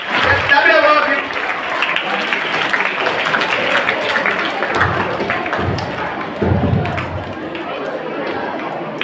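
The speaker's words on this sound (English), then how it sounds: "Let's clap it about him." A school assembly audience claps for a guest of honour, steady crowd applause filling the whole stretch with murmured voices and a few thumps mixed in.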